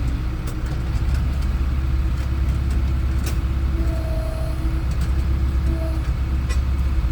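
Tractor engine rumbles steadily nearby at a JCB loading site where soil is filled into a trolley, a deep continuous drone with a couple of brief horn-like tones and occasional clanks.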